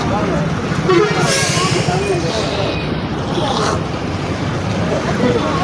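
A bus pulling into a busy bus stand, with horns tooting amid steady traffic noise and crowd chatter, a brief honk rising over the din.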